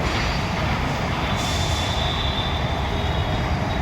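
A metro train runs loud and continuous at Durgam Cheruvu metro station, with a steady rumbling roar of rolling wheels and a faint high squeal of wheels on rail.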